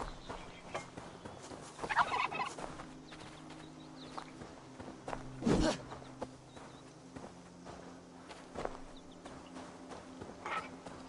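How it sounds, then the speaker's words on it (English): Turkeys gobbling in the video game Assassin's Creed Valhalla, a few bursts of gobbles rising over a steady game ambience with footstep-like shuffling, moderately loud and near, no talk. "Turkeys are evil."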